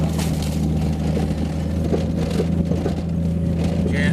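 A vehicle turning off onto the gravel Mohawk Road gives a steady, close engine rumble and low road drone heard from inside the cabin, with no break in the sound.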